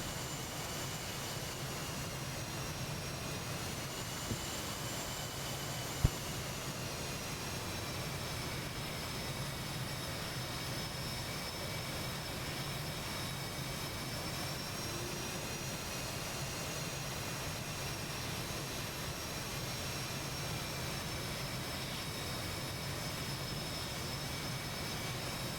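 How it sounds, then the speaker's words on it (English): F-18 jet aircraft taxi toward the runway in a flight combat game, a steady, even engine whine and rumble held at constant level throughout, distant and unchanging, with a faint click partway through and no voices. "The aeroplanes making their way to their starting lines"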